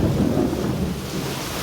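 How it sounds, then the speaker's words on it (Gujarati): Thunder during heavy village rain, a deep rolling rumble over dense rainfall noise, loud and continuous for the whole short stretch. "કડાકા જોરદાર થાય"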